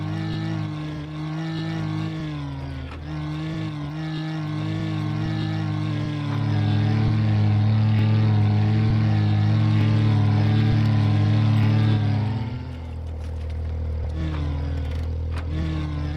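A modded truck engine in SnowRunner idles with a low tonal hum, then accelerates into a louder, rising drone that holds before cutting back to a softer idle near the end.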